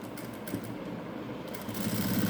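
A sewing machine stitching along the edge of a boat-neck blouse, a fast steady whir of needle strokes that grows a little louder toward the end, close and with no speech.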